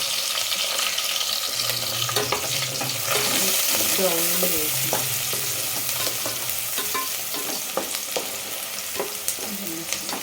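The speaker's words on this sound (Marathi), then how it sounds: "कांदा जरा लालसर होईपर्यंत परतायचा आहे" Chopped onion sautés in a pan for crab curry, a loud, steady sizzle broken by frequent stirring scrapes and clinks, with a brief patch of tonal clatter midway and a softer sizzle toward the end.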